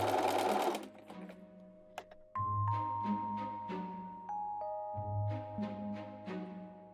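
A sewing machine backstitches through the fabric of a German women's headdress, the Wulsthaube, in short bursts of rapid, close needle clatter separated by brief pauses and small clicks.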